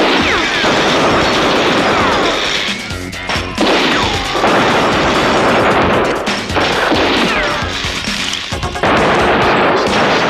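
Loud, sustained gunfire in a film scene, rapid bursts and heavy shots overlapping with crashes and impacts, dense and near throughout, brief lulls between volleys.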